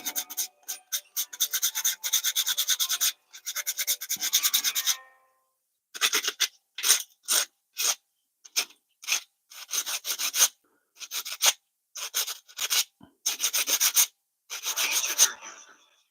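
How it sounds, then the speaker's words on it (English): Sandpaper rasps against a wooden fishing lure in quick, bursty strokes, fast scrubbing at first, then separate short rubs with brief pauses, close and dry. "I started sanding way too early"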